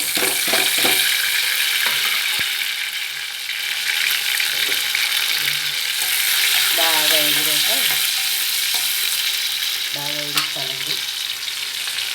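Loud, continuous sizzling of a spice tempering with curry leaves crackling in hot oil, with occasional scrapes and clinks from stirring.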